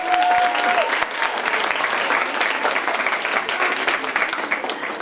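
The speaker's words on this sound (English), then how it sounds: "I think they deserve another round of applause" Steady, full applause from the audience at a school creative arts evening after an a cappella group sings, many hands clapping together at an even level with no voices rising above it.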